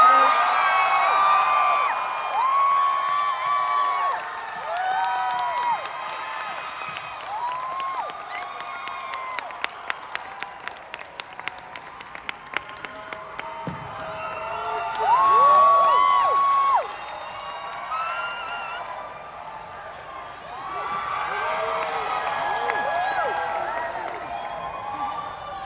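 A packed audience at a Sony Pictures film panel screams, shrieks and cheers nonstop after Tom Hardy is introduced, with scattered whoops and claps forming a loud, continuous crowd roar.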